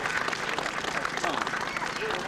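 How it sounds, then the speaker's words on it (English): A crowd applauds a Honda motorcycle racer at a race event, a steady burst of clapping with some scattered cheers and chatter mixed in, fairly loud and close. "Nice round of applause for him."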